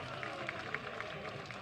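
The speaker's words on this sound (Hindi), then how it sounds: "वहीं ताली ना बजे चाहिए और जोरदार ताली बजे चाहिए" A crowd at a Chhath festival gathering applauding loudly, a dense continuous patter of many hands clapping at fairly even volume, with a voice faintly mixed in.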